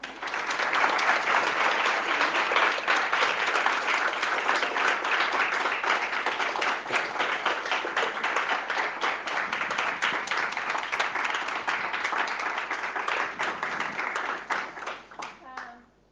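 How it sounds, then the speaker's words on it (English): A lecture audience claps at the end of a talk, sustained dense applause from many hands filling the room at close range, holding steady for a long stretch before tapering off at the end. "Was a long applause."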